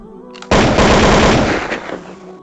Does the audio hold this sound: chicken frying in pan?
no